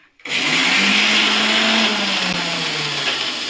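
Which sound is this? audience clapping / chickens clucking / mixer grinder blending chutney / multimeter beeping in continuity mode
mixer grinder blending chutney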